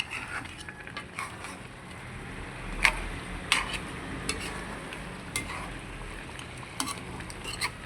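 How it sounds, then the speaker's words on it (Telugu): Masala-coated pieces are stirred and turned in hot oil in a pan, giving a soft steady sizzle with occasional sharper scrapes and clinks of the spoon against the pan. No one speaks. "మనం ఈ మసాలా అంతా ఈ ముక్కలకి ఎక్కేలాగా కొద్దిగా అలా కింద మీద చేస్తే"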